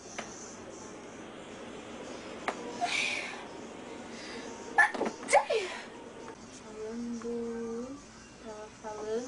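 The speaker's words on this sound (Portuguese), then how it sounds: "Vou espirrar." A person lets out a short, forceful sneeze in the middle of the clip, close by, with quiet talking before and after it.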